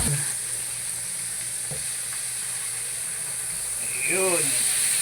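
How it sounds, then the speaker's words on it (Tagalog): Peri peri chicken frying in oil over low heat gives a steady, loud, close sizzle and hiss that continues without a break. A short gliding tonal squeak cuts in near the end. "ilulubog na natin ating chicken"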